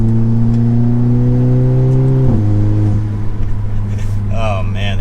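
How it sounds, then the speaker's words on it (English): An Audi S3 with an aftermarket Armor Speed intake drones loudly under load, then the pitch drops sharply off throttle with a quick blow-off burst, followed by fainter fluttering turbo chirps as the engine settles. "the armor speed intake gives you that nice whistle, a little bit of that blow-off noise"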